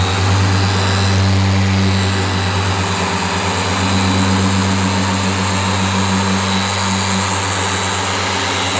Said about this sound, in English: Tell you what about this polisher. I know it's loud.